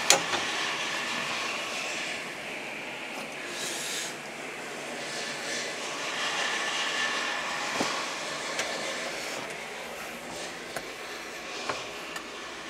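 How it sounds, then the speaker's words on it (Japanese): A Nihon Josetsu HTR81 1.35 m rotary snowplow, a non-running unit with a faulty transmission and about 3,200 hours, runs its engine in a steady, moderately faint mechanical drone, with a few sharp clicks along the way. "それではエンジンをかけます"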